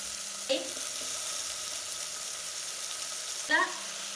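Onion fries in a pan for soybean khichdi, a steady soft sizzle with two brief scraping stirs, close and quiet.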